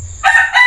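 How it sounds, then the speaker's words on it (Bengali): A rooster crows loudly and close by in a village just before sunrise, a short sharp two-part call over quiet low background hum. "এই যে মোরগের ডাক শুনতেছেন"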